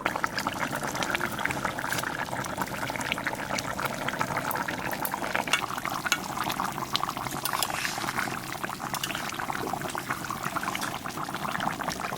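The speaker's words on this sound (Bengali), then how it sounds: "মাছ দিয়ে 5 মিনিট জাল দিলাম, আনে মাছের জল হয়ে গেছে।" Katla fish curry with taro (kochu) bubbling in a pot, a steady, even boil with soft liquid churning that holds constant throughout, close by with no voices.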